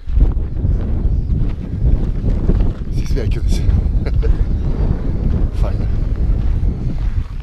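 Strong wind buffets the microphone outdoors at a competition, a loud continuous low rumble throughout, while a person talks over it.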